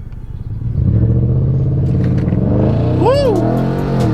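An Audi RS5 launches under launch control in sport mode with traction control off, its loud engine roar building sharply after a brief moment and holding steady, with a swooping whine near the end.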